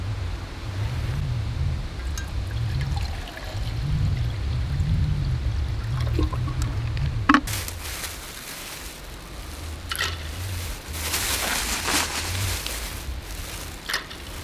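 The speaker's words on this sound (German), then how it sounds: "Und jetzt setze ich erstmal, wo das Feuer schon langsam ordentlich anfängt, das Wasser auf, damit wir die Nudeln kochen können." Water is poured into a pot for cooking pasta over a campfire outdoors, a gurgling pour in uneven surges at first, then a thin trickle after a clank, with faint outdoor ambience.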